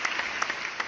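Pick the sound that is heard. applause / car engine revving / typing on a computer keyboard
applause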